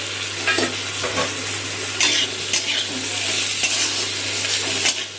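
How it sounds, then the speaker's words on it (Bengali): Ginger-garlic paste with salt, turmeric, chilli powder and Kashmiri cumin powder sautéing in a pan over low gas, a steady close sizzle with frequent scraping stir strokes throughout. "মশলাটা একটু কষিয়ে নেবো, গ্যাসটা কমিয়ে রেখেছি আর মশলা পুড়ে যাবে।"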